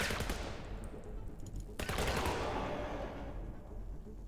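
Rapid, dense gunfire from the video game USC: Counterforce, a sustained loud burst of automatic shots with a sharp extra blast midway, with no talk over it.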